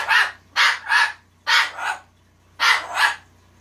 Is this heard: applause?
no